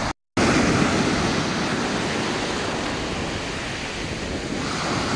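Surf rolls in and breaks along a steeply shelving beach near Gazipasa, Turkey, in a continuous roar of washing water, close and loud, with some wind buffeting the microphone.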